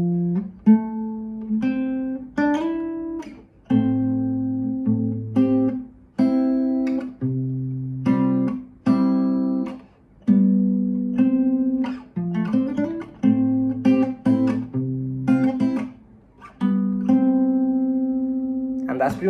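An acoustic guitar slowly plays the riff of a song, picking single notes and small chord fragments one by one. The lines are melodic and unhurried, close and clear, with no voice over them.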